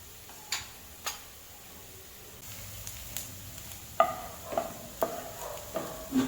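Turmeric and coriander powder roast in a pan while a spoon stirs, giving a quiet steady sizzle under repeated sharp scraping taps that come about every half second toward the end.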